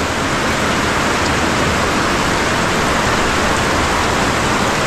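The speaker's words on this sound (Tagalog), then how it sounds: "Ang ulan na di nagbibiro." Heavy rain pours down without letup, a dense, loud, steady hiss that fills the scene evenly from start to finish, with no voices heard.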